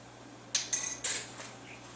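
A spoon clinks and scrapes against a bowl while spice mix and turbinado sugar are stirred together, three or four sharp metallic taps over a quiet background.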